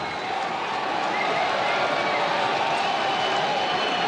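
Cricket crowd at The Oval during the 2023 World Test Championship Final, Australia versus India, on their feet and roaring, with a steady dense wash of chanting and cheering throughout, and commentary over it.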